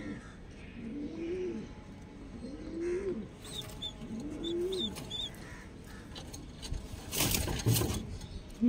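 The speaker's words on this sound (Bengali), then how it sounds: "এগুলো সব বাচ্চা পায়রা।" Young pigeons in a home loft coo in repeated low rolling phrases at close range, several calls in a row, with some chirps and a burst of rustling or handling noise near the end.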